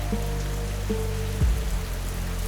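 Steady rain falling outside a cosy bookshop, a soft continuous patter under a low hum with faint tonal tones, with a brief deeper thud near the middle.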